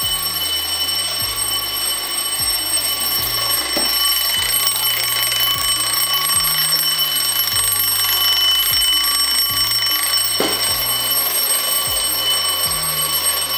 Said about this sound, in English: why did you put the alarm on?